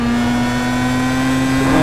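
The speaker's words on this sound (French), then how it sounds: "faut bien écouter en fait le régime moteur dans les virages" A race car engine at the Brands Hatch circuit holds a loud, steady droning note at constant revs through a corner, with no voices.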